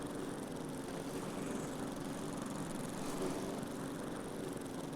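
A ride-on lawn mower engine in Lumberjack's Dynasty drones steadily, a continuous buzzing hum with a faint rhythmic pulse, moderately loud and unbroken, with no talking.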